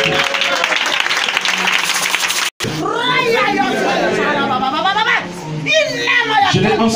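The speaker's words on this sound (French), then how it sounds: "Est-ce que tu peux acclamer la parole de Dieu ce matin?" A church congregation claps and cheers loudly at a French-language worship service, a busy wash of applause and shouting voices that breaks off briefly, then gives way to a mix of cheering and talking.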